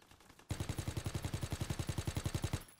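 Video game automatic gunfire, a rapid steady burst of about twenty evenly spaced shots starting abruptly and lasting a couple of seconds, loud and close.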